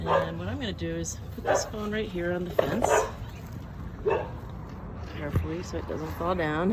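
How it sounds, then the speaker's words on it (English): A dog barks and yips repeatedly outdoors near a garden fence, the barks rising and falling in pitch, under and between a person talking close by. "that's my dog Ollie barking"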